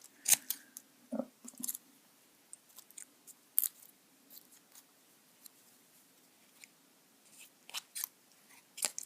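Scissors trimming cardboard for a homemade T. rex model, irregular crisp snips and crunchy cuts in short clusters, close and fairly quiet with pauses between.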